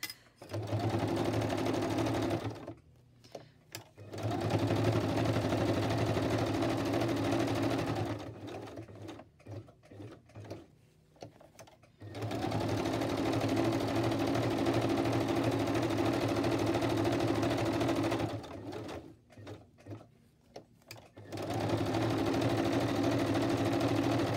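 A sewing machine with a regular needle stitching cotton fabric runs in long steady whirring stretches, stopping briefly several times between runs of stitching, close and even in level.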